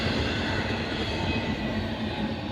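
Freight train rolling past in Oak Harbor, Ohio, a loud continuous rumble and rattle of wheels and cars, close and steady throughout with no talking.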